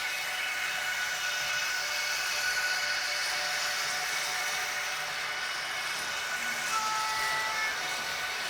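Model railroad train running in reverse along its track, a steady, smooth mechanical whir and hum that continues evenly throughout without stops, with no talking.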